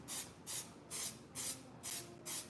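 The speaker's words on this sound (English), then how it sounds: "Just a little spray." Suede protector is sprayed onto a suede shoe in six short, evenly spaced aerosol bursts, each a soft, close hiss with brief quiet gaps between, with no talking.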